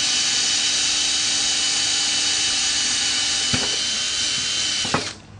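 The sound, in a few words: power drill drilling pilot hole in wood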